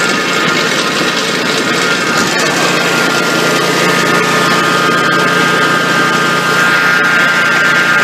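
A small Kawasaki engine at wide open throttle roars loudly and steadily at high revs, holding a constant buzzing pitch throughout without letting up.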